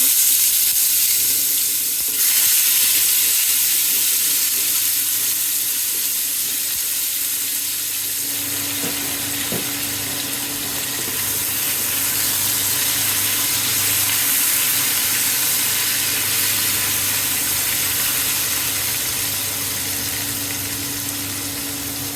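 Small eggplant pieces frying in a pan, a continuous close hiss of sizzling oil that stays steady and fairly loud, with a brief tonal hum partway through.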